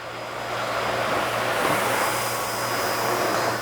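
A Miele Guard S1 Parquet Flex canister vacuum runs steadily on carpet, a loud, close, continuous broadband whoosh with a low motor hum and a faint high whine, holding even throughout with no voices.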